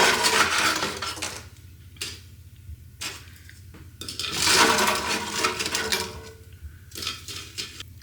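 Air fryer chorizo crisps are served onto a plate, with clinks, scrapes and mechanical clicks of the basket and utensils, up close and intermittent with quiet gaps.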